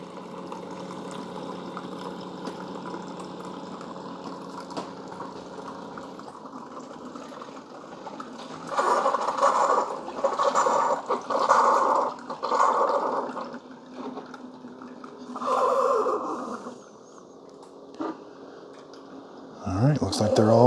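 Keurig single-serve brewer dispensing reduced calorie hot chocolate, a steady hum and gurgle of liquid pouring that swells into louder bursts and hisses toward the end, with faint talk in the background.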